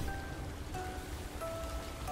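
Night rain in the video game Cassette Beasts: a steady, soft wash of falling rain with faint patters, continuous and even, with no voices over it.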